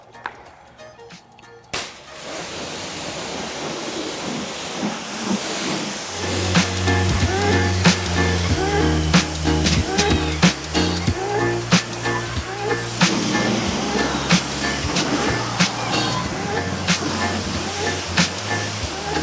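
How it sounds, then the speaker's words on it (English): A red Fiat covered in soap suds after a contact wash is rinsed off with a water spray, a steady loud hiss running continuously beneath a person talking. "So Josh, now when you rinse it off, since we've done the contact wash, now you're gonna get that beading you're looking for."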